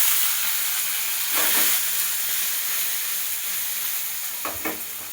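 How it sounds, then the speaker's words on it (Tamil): Meal maker soya chunks frying in a pan with pepper for a manchurian: loud, continuous close sizzle with a couple of brief scraping stirs, no talk. "இதை போட்டுருவோம், இந்த மீல் மேக்கரையும் போட்டுருவோம்."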